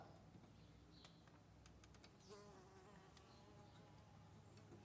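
Faint buzzing of a bee hovering close by at a quail cage outdoors, a thin drone rising and fading over a few seconds amid light clicking handling noises.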